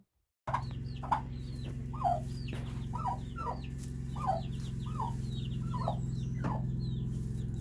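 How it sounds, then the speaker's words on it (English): Chicken chicks hatched by a turkey hen give soft repeated peeps and chirps at a steady pace, close by, over a constant low mechanical hum. "Here's our 7 little chicks that our turkey hen hatched."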